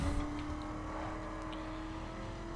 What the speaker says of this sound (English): This is a Chevy Camaro.